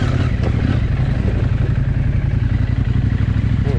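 A KTM 790 Adventure R motorcycle rolls along slowly, its engine holding a steady low, pulsing rumble close by, with no clear revving, under continuous wind noise.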